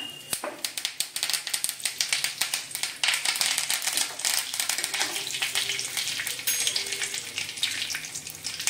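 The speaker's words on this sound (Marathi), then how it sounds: "थोडेसे जिरे, त्याच्यामध्ये टाकूया आपण कढीपत्ता" Mustard seeds, cumin and curry leaves crackle in hot oil, a busy, close spitting sizzle with rapid sharp pops that thicken after the first few seconds and keep going with no talk.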